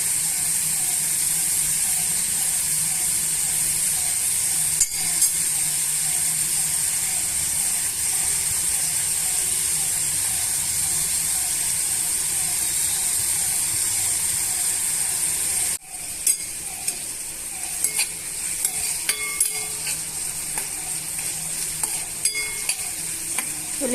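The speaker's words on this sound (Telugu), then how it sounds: "ఉల్లిపాయ ముక్కల్లో పచ్చివాసన పోయేంత వరకు మనం వేయించుకోవాలండి." Onion and green chilli pieces fry on medium flame in a pan, a steady close sizzle with repeated scraping stirs that grow sharper and more frequent in the later part, no talking.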